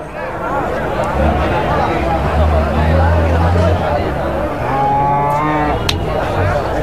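Calves lowing at a busy cattle market, with loud, drawn-out moos rising over a steady crowd babble and nearby chatter, the animals close and continuous throughout.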